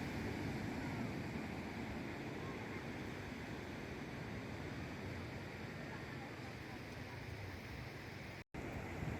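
Small sea waves wash steadily at Kuala Jangka beach, a continuous soft surf rush with no distinct breaks, faint and even throughout with a brief dropout near the end.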